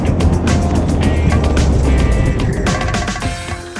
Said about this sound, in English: Cruising around Los Angeles in the Lotus Elise